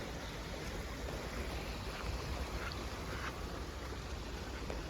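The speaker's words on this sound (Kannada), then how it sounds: "ಎಷ್ಟು ಹರಿತೈತೆ ನೀರು." After rain near Pratapgarh in Mahabaleshwar, a fast-flowing stream rushes in full flow. It makes a steady, broadband roar that stays even and moderately loud throughout, with no voices.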